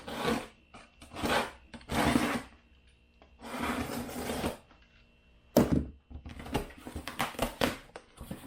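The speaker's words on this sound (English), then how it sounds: "Let's break out the good old DeWalt razor." A DeWalt utility knife slices open a cardboard shipping package in several rasping, scraping strokes of varied length, close and fairly loud, with tearing and rustling between cuts.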